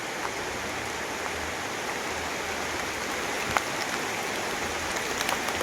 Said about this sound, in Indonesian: sayang sekali ini malah hujan